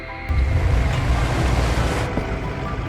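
Sea waves wash steadily around a boat crossing the Aegean Sea at night in an Indiana Jones film, a broad continuous surge with some wind, fairly loud and with no voices.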